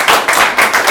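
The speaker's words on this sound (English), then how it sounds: "applause" A workshop audience claps together in steady applause, dense and close, with no voices over it.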